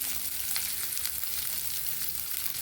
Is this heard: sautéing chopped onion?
yes